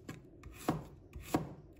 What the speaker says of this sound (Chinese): 再把它切成薄片，大概1公分左右的厚度就可以了